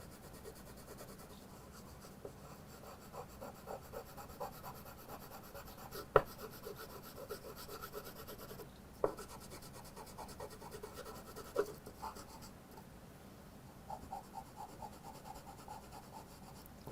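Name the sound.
pencil shading a portrait drawing on paper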